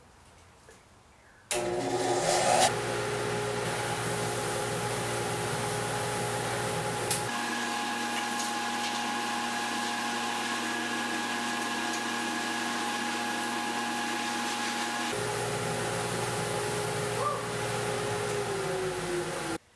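A modified Harbor Freight two-stage dust collector switches on after a brief quiet start and runs with a loud, steady roaring hum. Its tone shifts noticeably twice during the run.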